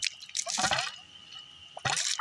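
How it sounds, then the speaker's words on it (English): Filtered water drips and dribbles unevenly from a home water filter in bursts of close, splashy trickling with pauses between. Faint voice noise sits in the background. "So this is supposedly filtered water. It did say give it a minute, and this is not a very consistent flow."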